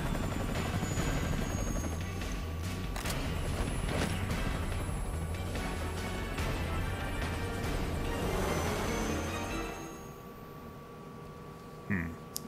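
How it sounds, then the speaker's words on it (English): A helicopter in the Metal Gear Peace Walker video game chops loudly and steadily with a rapid rotor pulse under game noise, then fades near the end, followed by a few brief clunks. "Oh shit, we're fighting a chopper here?"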